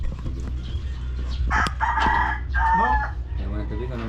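Fighting roosters kept for cockfighting crow loudly and cluck nearby over a low steady background hum, with a few overlapping calls in quick succession.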